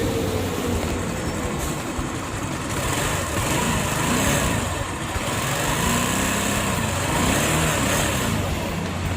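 An Easyride 150N motorcycle engine, warmed up with its auto enricher removed, idles steadily at about 1,100 to 1,200 RPM. The running note is continuous, close and fairly loud, with no talk over it.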